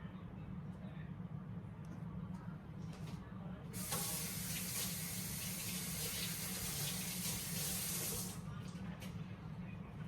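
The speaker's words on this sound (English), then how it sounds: "Now let me rinse these off to get the seeds off of them" Tap water running over bell peppers in a kitchen sink to rinse off the seeds, a soft background trickle that swells into a strong spray for a few seconds and then eases back to a trickle.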